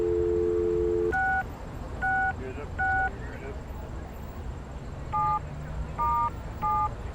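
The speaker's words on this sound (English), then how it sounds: "You pick up the phone, and to your delight, you get a dial tone." Payphone keypad dialing in the Leisure Suit Larry video game: a short tone, then two clusters of three quick DTMF beeps, evenly spaced and crisp over a steady background hiss.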